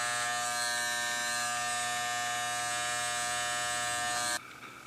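Electric hair clippers buzz steadily and loudly at close range during a barbershop fade cut, a constant motor whine that stops abruptly near the end, leaving a quieter room tone.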